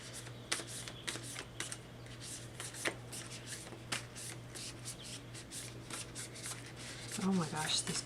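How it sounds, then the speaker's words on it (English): Tarot cards being shuffled by hand, a run of soft riffling flicks and slaps at irregular intervals over a low steady hum, fairly quiet and close. "let me shuffle again"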